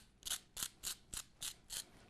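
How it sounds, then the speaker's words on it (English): A pepper mill set to a coarse grind cracks peppercorns over steak in six quick, evenly spaced crunchy grinding bursts, close and fairly quiet, with no talk. "Now my pepper, I'm using the big grind because it's going to be a peppercorn sauce at the end."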